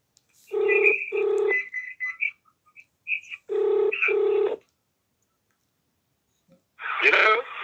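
A phone rings in two clear double-pulse bursts separated by a pause, fairly close, before a voice briefly answers at the end.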